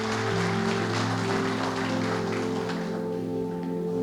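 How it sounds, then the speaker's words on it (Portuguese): Congregation in a church clapping steadily together, a broad wash of applause over sustained music with held tones, tapering slightly toward the end. "Aplauda bem forte a Jesus."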